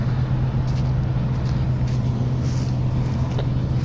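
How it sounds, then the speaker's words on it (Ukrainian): A farm tractor engine idles steadily at close range, a continuous low rumbling drone with no talk over it. "Це трактор мій."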